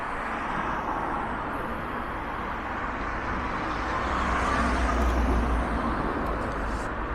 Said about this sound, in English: I got a good lot of cars coming now.